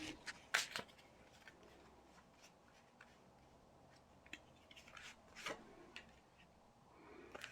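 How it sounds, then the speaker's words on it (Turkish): Tarot cards are handled and three are picked one by one. Quiet, close rustles and sliding card sounds come in short bursts, with a few sharper flicks against near silence. "Bir tane şöyle seçelim. 3 tane kart seçeceğim."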